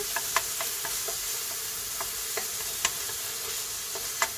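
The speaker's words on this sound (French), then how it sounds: "on va faire avec une cuillère en bois. On remue bien." A wooden spoon stirs a pot of couscous on the stove, with light, irregular scraping clicks against the pot over a soft, constant sizzling hiss.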